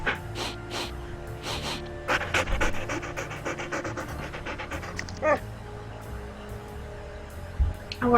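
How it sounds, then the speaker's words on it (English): Dogs pant in the Nancy Drew video game Ghost Dogs of Moon Lake, a steady, rapid huffing rhythm with occasional snorts and soft whimpers, fairly close and moderately quiet. "So you're the ghost dogs."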